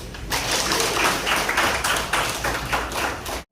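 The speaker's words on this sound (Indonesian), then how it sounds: "Aplaus dulu" A class of students applauding, brisk, dense clapping from a room full of hands, fairly loud and steady for about three seconds before stopping abruptly.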